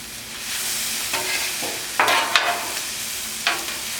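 Sautéed mushrooms and vegetables sizzling in a pan as they are stirred together, a steady close frying hiss with a few sharper scraping stirs breaking through.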